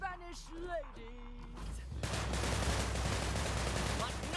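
Enemy gunfire in the video game Sunset Overdrive bursts in as dense, sustained automatic shooting and crashing, loud and continuous, after a brief stretch of game sounds and voices.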